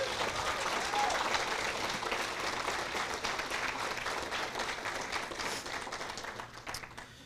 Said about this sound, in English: can we please give the Equality Ohio staff another round of applause?